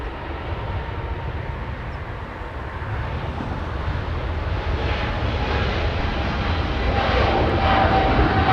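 An airliner lifts off from Los Angeles International Airport, its jet engines a loud, steady broadband roar that swells gradually and holds throughout, with no voices.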